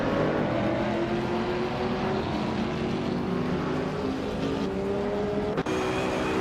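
A 2010 BMW Z4 GT3 race car in a racing video game drones steadily at high revs, its engine tone sliding slowly upward in a continuous loud whine with a brief dropout near the end.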